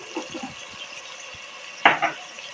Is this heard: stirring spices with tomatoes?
yes